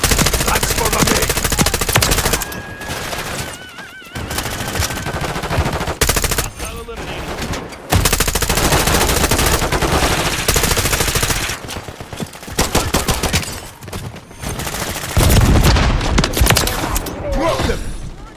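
Sustained automatic gunfire in the video game Wuthering Waves, loud and close, rattling almost without pause in long bursts with brief gaps and a few heavier thuds.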